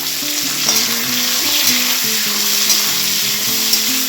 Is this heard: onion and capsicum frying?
yes